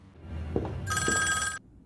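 An old telephone in a Squid Game scene rings with a bright, loud electric bell for under a second, after a couple of muffled thuds in a quiet room.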